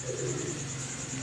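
Golden pigeons coo in a low, continuous murmur close by, soft rolling calls layered over a steady background hum.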